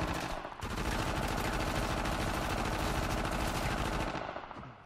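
Sustained rapid automatic gunfire in the video game Uncharted: The Lost Legacy, loud and continuous for several seconds, with a brief break near the start and no talking over it.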